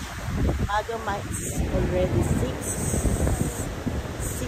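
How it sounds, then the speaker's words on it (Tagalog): Strong wind at a beach on Boracay, roaring steadily across the microphone with surf rumbling underneath, while people talk over it. "Nandito kami ngayon, ang lakas ng hangin. Sa beach."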